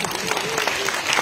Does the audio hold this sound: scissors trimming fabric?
no